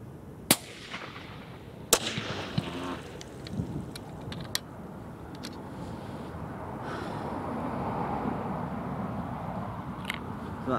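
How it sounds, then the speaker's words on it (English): Rifle shots firing Nosler 130 grain RDF bullets at a small target: a few sharp, loud reports spaced well apart early on, followed by a long stretch of low outdoor rumble and faint clicks. "So that's 10 shots."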